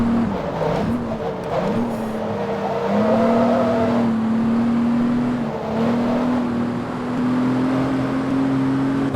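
Engine note of a car driving in Forza Motorsport 2, a steady droning hum that rises and shifts pitch as the car accelerates, loud and continuous with no talk.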